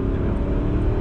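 Mercedes-Benz W163 M-Class with the 5-liter M113 V8 revving hard at full throttle, a brief, loud, deep engine roar heard from close range.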